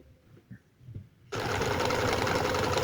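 Sewing machine stitching along the base of boot piping, starting abruptly after a quiet moment with faint handling noises, then running fast and steady close by.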